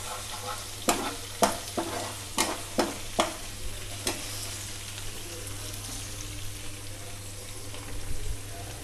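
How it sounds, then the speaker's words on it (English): A spoon scrapes and knocks through thick mutton roast paste sizzling in a pan, with a run of sharp rhythmic strokes early on, then softer intermittent stirring over a steady frying hiss, close up. "You have to stir it on and off, otherwise the paste will stick to the bottom of the pan."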